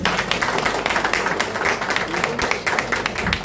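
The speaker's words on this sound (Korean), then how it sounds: "박수 한번 부탁드리겠습니다." Close, lively clapping from an audience at a Korean political campaign event for election committee chairs, with sharp individual claps over a dense wash and some background voices.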